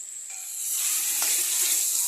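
Chicken curry simmering in a pan after water is added gives a steady, bright hissing sizzle that swells slightly and holds, with a faint stirring tap partway through and no voices.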